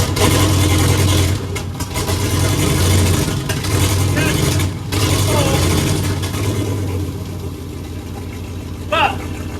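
A small engine runs steadily at a low, even pitch for the whole stretch, loud and close, on a machine being built where a bent rod had been a worry; faint muffled voices may sit under it.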